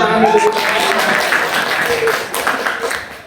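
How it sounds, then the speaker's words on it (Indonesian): A classroom of students claps hands together in a brief burst of dense, overlapping applause, close and lively, with voices talking over it. "Oke, tepuk tangan dulu."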